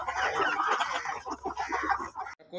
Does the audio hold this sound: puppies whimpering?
no